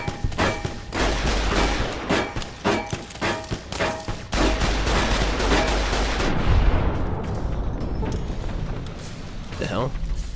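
Gunfire in modded hardcore Fallout: New Vegas, including a shotgun blast among a rapid burst of loud shots and thuds, dense and repeated, with mechanical clatter and a voice talking afterward.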